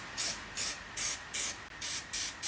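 Contact adhesive sprayed onto fibreglass kick panels for a 1969 Mustang convertible, heard as a series of about seven short hissing bursts in steady rhythm, close and fairly loud with quiet gaps between, no talking.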